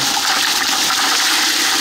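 Ice from a bag tumbling into a container of water outdoors, a steady loud rushing, splashing wash with no clear separate clinks, close and continuous with no talk.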